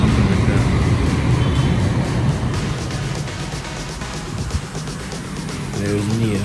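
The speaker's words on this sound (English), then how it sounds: "You hear the sound, you see the traffic." City street traffic in Vietnam heard through an open window: a steady dense roar of passing vehicles and engines, fairly loud and continuous, with varying swells and no clear voices.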